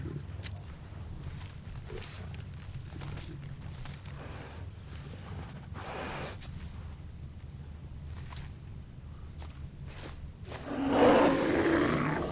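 A bear roars in the survival video game The Long Dark, a loud growling burst near the end over a low rumbling wind-like background.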